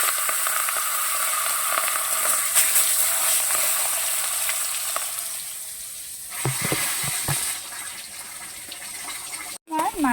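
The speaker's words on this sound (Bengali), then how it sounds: "এবার লবণ হলুদ দিয়ে মাখিয়ে রাখা মাছের মাথাটা ভেজে নেব" A fish head marinated in salt and turmeric fries in a hot wok with a steady, close sizzle, broken later by a few clatters and stirring knocks.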